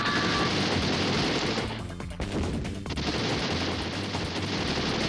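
Dense, continuous video-game gunfire from a Stallone action title, loud and relentless, with rapid bursts piling into a constant roar that briefly thins before surging back.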